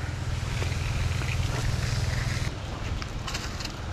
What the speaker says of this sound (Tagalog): maingay yung makina eh